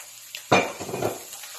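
Curry powder, coriander, paprika and cumin stirred into a frying pan for butter chicken: a sudden sizzling hiss as the spices hit, then scraping stirring sounds with soft crackle, close and brief.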